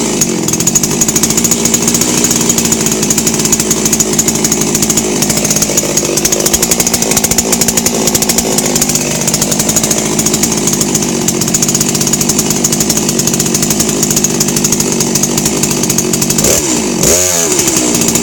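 A Huztl MS660 gasoline chainsaw idles and revs continuously, a steady buzzing engine drone with no talking, close and loud throughout.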